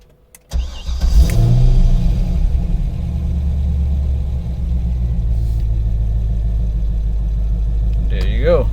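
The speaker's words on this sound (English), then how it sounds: "Car started up." A Chevrolet C5 Corvette Z06 is started by push button with the clutch in. After a brief quiet moment there is a sharp crank and catch, then a brief rev that settles into a loud, steady, close rumbling idle.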